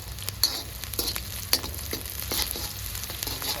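Onions and green chillies fry in hot oil, giving a continuous sizzle with sharp spattering pops and occasional stirring clatter, close and fairly loud, with no talking.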